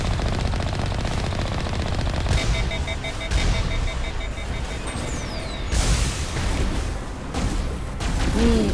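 Rapid enemy gunfire in the Mass Effect video game on Ilos, steady bursts of automatic shooting with booms and impacts layered over continuous game ambience, loud and sustained throughout.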